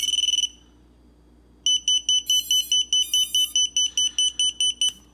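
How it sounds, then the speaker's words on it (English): A lost-model alarm buzzer on an RC model sounds a short shrill beep. After a pause it beeps repeatedly in an even, rapid, piercing rhythm, loud and close. "lost model alarm's going off"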